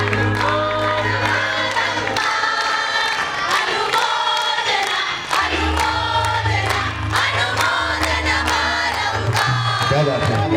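An audience at a devotional bhajan gathering cheers and applauds for a family, a loud sustained mix of clapping, whoops and shouting that continues throughout over background music.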